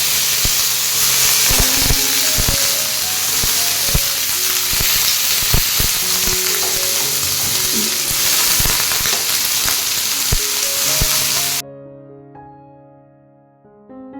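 Carrot and beetroot pieces fry in hot oil with a loud, steady sizzle and hiss, with a few stirring clinks. The sizzle cuts off abruptly near the end and leaves a faint ringing tail.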